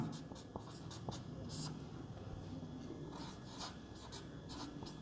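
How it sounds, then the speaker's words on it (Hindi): Writing strokes on paper or a board during a maths lesson on percentages come as a series of short, scratchy marks, quiet and close, with a voice speaking over them. "तो यहां पर लिखेंगे"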